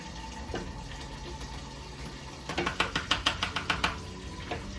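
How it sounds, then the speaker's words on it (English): Quiet trickle of water followed by a quick run of rhythmic clinking taps as something is stirred in a cup, fairly faint and close. "Just add a little more water, keep stirring."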